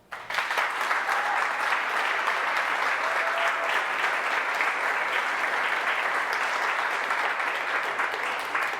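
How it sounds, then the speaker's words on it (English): A large audience at a web development, data science and AI bootcamp demo day applauds, a dense, sustained clapping that starts abruptly and stays loud and even for nearly nine seconds, with no voices over it. "I would like to give them all a huge round of applause"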